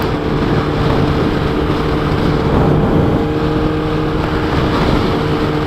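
A 2012 Kawasaki Ninja ZX10R with 57,000 km runs steadily in fourth gear, its engine droning loud and continuous under heavy wind rush for the whole stretch.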